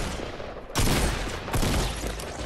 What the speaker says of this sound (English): I'm gonna get shot in the back here in a second.